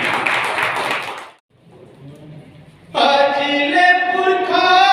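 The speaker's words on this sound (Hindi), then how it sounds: "एक बार ताली बजा दीजिए।" An audience claps at a poetry recital, a dense burst of applause that fades out after a second or so, followed by quiet and then a voice singing.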